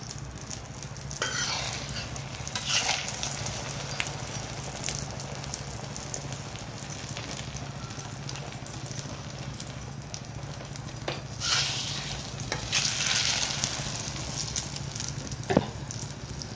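Masala egg omelette frying in a pan, a steady soft sizzle with occasional crackles and scraping stirs, no talking.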